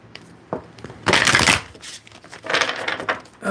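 A tarot deck is shuffled in two close, loud bursts of crisp riffling, with a short tap before them and quieter handling between them.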